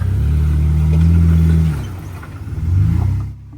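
A Jeep off-roading at an OHV park, its engine rumbling loud and close with a steady rev, then easing off and surging again, with some clatter of the vehicle over rough ground.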